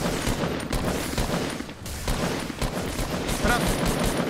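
Rapid bursts of Fortnite gunfire crackle almost nonstop, loud and dense, with muffled Swedish talking mixed underneath.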